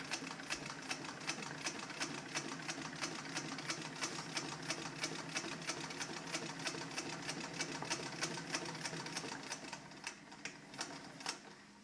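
A sewing machine stitches a bottom wear panel onto a leather tool bag, giving a steady, fast, even mechanical clatter of needle strokes that runs the whole time at close range.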